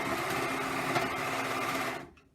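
A sewing machine stitches steadily over a seam while making a patchwork hoodie from stretch fabric scraps. The fast, even whirring runs loud and alone for about two seconds, then winds down and stops.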